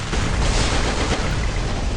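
A loud, sustained explosive roar with rumbling low end fills the whole stretch, like a game blast with debris noise, no voices over it, from the game Free Fire.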